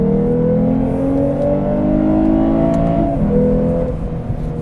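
A 2021 Lexus IS 350 F-Sport AWD's V6 revs hard with exhaust and induction noise, a loud, steady climb in pitch over several seconds, then the tone drops briefly before rising again, with no talking.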